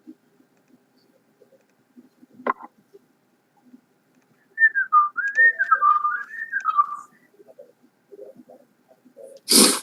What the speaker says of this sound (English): will you stop whistling like a fucking bird?